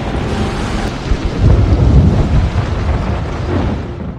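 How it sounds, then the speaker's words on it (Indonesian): A heavy film thunderstorm rumbles loud and continuous, with rolling thunder swelling over steady rain and wind noise. "Mereka harus melewati badai petir yang sangat besar."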